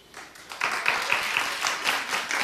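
A studio audience at a daytime talk show claps in response to a show-of-hands poll, a steady patter of hand claps building after a soft start and continuing for a couple of seconds.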